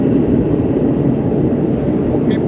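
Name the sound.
train passing by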